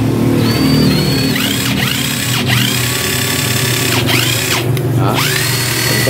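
A cordless drill kit with speed control and a reverse function whines steadily, close and loud, its motor pitch sweeping down and back up several times as the trigger is eased and squeezed.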